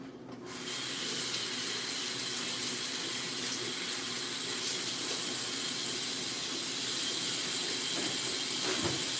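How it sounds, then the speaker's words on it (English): Running water rinsing hair, a steady close hiss of flowing tap water that starts abruptly and continues at an even level. "Let me rinse this."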